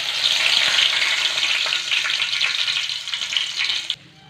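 Bay leaf, star anise, clove and cinnamon frying in hot oil for a pepper chicken gravy, a loud close sizzle that fades slightly before cutting off abruptly.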